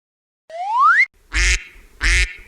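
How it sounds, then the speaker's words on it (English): A toy duck quacks loudly and close: first a rising tone, then two short, raspy quacks spaced evenly apart, with nothing else heard. "duck"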